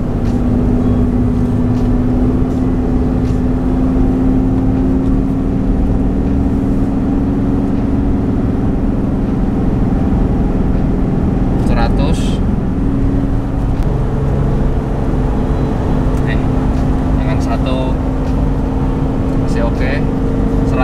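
Toyota Land Cruiser VX-80 cruising at high speed, a steady loud engine drone with road and wind roar, the engine pitch shifting slightly midway, while someone talks over it.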